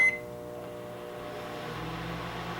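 Close, steady hum of a running microwave oven with burn marks inside, a droning tone with layered harmonics after a brief click at the start.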